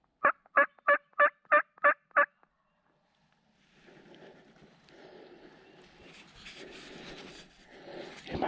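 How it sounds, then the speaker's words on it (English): Wild turkey gobbler in the Tennessee mountains: a rapid series of seven loud, evenly spaced gobbling calls up close, followed by quieter rustling and shuffling through leaves in the woods. "let's see if we can't entice this gobbler"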